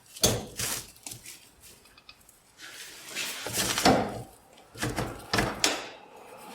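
Repeated heavy clunks and scraping thuds of a stiff door on an abandoned 1962 AMC Rambler being yanked at, several forceful pulls in a row, up close.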